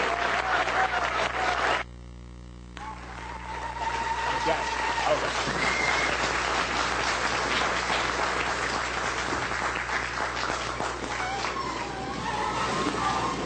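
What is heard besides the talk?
audience applause for a lecturer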